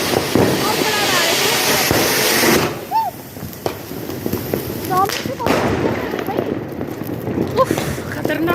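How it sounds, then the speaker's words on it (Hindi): An anar fountain firecracker burning on Diwali night sprays a loud, continuous crackling hiss for the first few seconds, then quieter fizzing and pops follow while people talk nearby. "ये जला दिया मैंने अनार, जला दिया भाई।"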